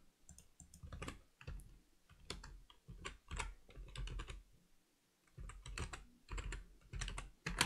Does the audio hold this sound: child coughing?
no